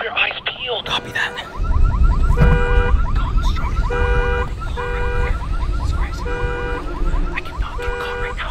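A car alarm blares loudly in repeating electronic siren cycles, joined by low rumbling background noise, while people speak briefly at the start.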